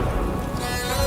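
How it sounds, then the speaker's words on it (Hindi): Heavy rain pouring down on a dark night, heard as a steady, dense hiss of falling water with no voices, a brief continuous downpour. "घनघोर वर्षा हो रही थी।"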